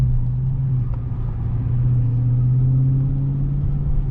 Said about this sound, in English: This is the stock muffler. This is how it sounds.